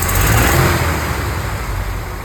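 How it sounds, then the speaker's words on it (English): The engine of a 1969 Chevy C30 truck is revved, a loud, steady roar close by with no talk over it. "I give it some revs."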